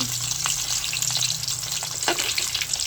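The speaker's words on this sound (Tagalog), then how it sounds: "Ako po nagpiprito na ng hotdog." Loud, steady sizzling of hotdogs frying in a pan, with occasional scraping and turning sounds mixed into the constant crackle.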